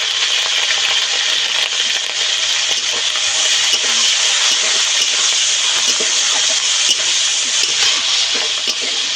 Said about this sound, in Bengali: লবণ হলুদ মাখিয়ে রাখা চিংড়ি মাছটাকে এর সঙ্গে ভেজে নেবো